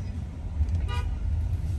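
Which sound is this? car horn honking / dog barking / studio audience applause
car horn honking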